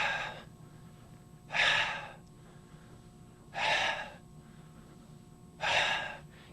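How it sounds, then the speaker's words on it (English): Three slow, deep breaths during a QiGong exercise, each a soft airy exhale spaced about two seconds apart, close and quiet over a faint background hum. "So again, deep breath in"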